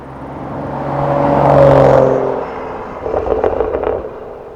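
A tuned 400 hp BMW 435i accelerating hard in fourth gear, the engine note swelling to a loud peak and fading as it pulls away, followed by a brief rougher burst of exhaust or road noise.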